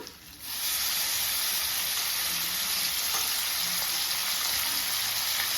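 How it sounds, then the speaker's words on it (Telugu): Washed, squeezed moringa leaves drop into hot oil and erupt into an intense, steady hissing sizzle that starts abruptly and stays loud and even to the end. "కడిగి శుభ్రంగా ఇట్లా పిండి అదే నూనెలో వేయాలా"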